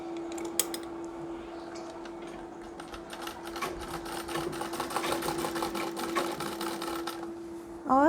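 Sewing machine stitching the folded inner part of a saree with long stitches, a steady rapid mechanical whir with ticking needle strokes running continuously and close, with no talk.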